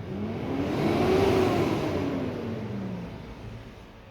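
A Fuso 6M70 truck engine with a low-power fault revs at wide open throttle toward 2,000 RPM, its droning tone rising and swelling over about a second, holding, then easing back down, steady and fairly close with no voices.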